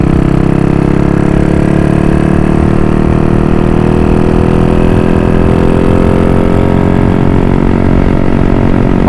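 A Dream motorcycle engine with a 53 mm piston, still in its break-in period, idles up close with a loud, steady, even hum throughout and no talking.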